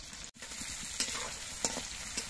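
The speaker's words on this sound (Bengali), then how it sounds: "চিংড়ি মাছ কিন্তু খুব কড়া করে ভাজার প্রয়োজন নেই, একটু হালকা করে আমি মাছগুলো ভেজে নেব।" Prawns fry lightly in a pan with a constant close sizzle and a few sharp stirring scrapes at intervals, and no voices.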